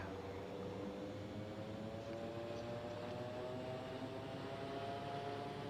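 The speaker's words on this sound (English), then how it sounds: "Short field takeoff." Quest Kodiak single-engine turboprop powering through a short-field takeoff in the X-Plane 11 simulator, a steady loud drone with a rising engine tone sustained throughout.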